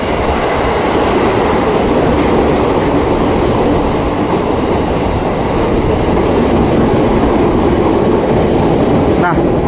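A KRL commuter train, an Inka-built set bound for Bogor, roars loudly past a station platform with a steady rumbling rush and a brief high squeal near the end.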